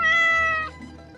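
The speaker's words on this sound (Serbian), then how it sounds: "Ovo mačka, mačka." A cat gives a single clear, drawn-out meow close by. It fades into quiet with no talking.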